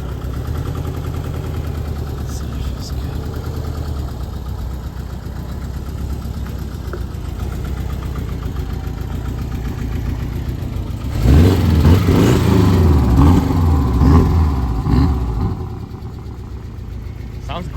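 Porsche 718 Cayman S running as it pulls off: a steady idle under a voice, then a louder, rougher engine note swelling for a few seconds before settling back.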